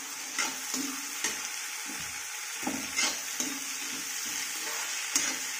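Tomatoes are stirred into poha frying in a pan: a continuous sizzle with repeated scraping strokes of a spoon at an uneven pace, close and moderately loud.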